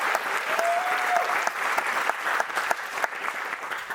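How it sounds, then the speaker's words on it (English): Wedding guests applaud a toast for the couple, a close, sustained burst of clapping with a brief voice rising through it early on and claps thinning slightly toward the end. "This is going to be a long speech if you keep clapping like that."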